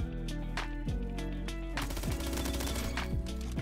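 A FAMAS rifle is hip-fired in the Roblox shooter Bad Business: rapid bursts of loud, clipped gunshots repeat in a fast rhythm over steady game background noise.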